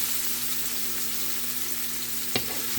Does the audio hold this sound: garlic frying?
yes